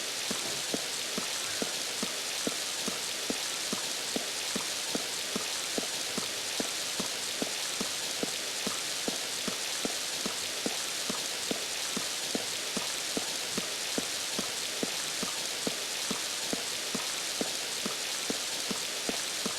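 Steady rain falls throughout in the Spectrobes video game, a constant hissing wash dense with quick droplet patter at an even, fairly loud level, with no voices over it.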